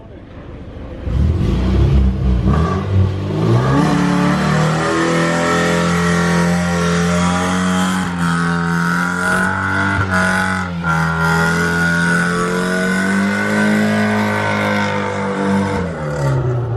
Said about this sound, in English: nice 240, do a burnout